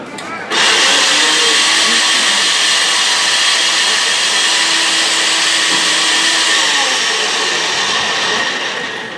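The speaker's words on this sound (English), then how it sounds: "That is how you use a blender." Blender making a fruit drink, switching on abruptly and then running as a loud, steady, high whirring whine close by, easing slightly near the end, with no talk over it.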